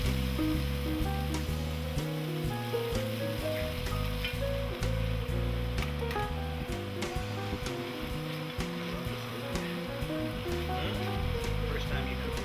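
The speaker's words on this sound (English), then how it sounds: "you have to add a little chicken broth at a time and continuously stir" Risotto simmers and sizzles in a pan while chicken broth is added a little at a time and stirred, a steady bubbling hiss running throughout with background music and faint voices.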